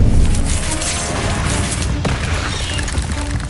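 Bombarda blasting spell explosion in Hogwarts Legacy, a loud, broad crashing blast that fills the moment and rumbles on steadily with a sharp secondary impact midway, no voices.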